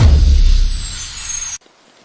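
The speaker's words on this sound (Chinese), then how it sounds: "这么大的雨，怎么跑进来的？" Heavy rain pours in a dense, loud, steady hiss and roar that stops abruptly, leaving near silence.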